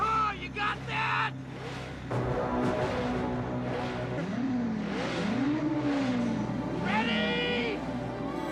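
Car engines rev and rise in pitch during a street race scene from The Wraith featuring a Trans Am, loud and close, with sweeping engine tones, brief tire noise and voices shouting over the roar.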